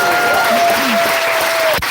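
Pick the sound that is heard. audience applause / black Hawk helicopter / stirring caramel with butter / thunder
audience applause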